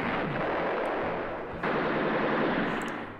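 Sustained, dense gunfire from a video game fills the whole stretch, loud and continuous with a brief dip midway, no voices over it.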